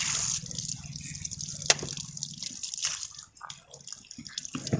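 Water is poured out of a weed sprayer tank after herbicide use, making a faint splashing, trickling stream with a few drips, heard close and fairly quiet.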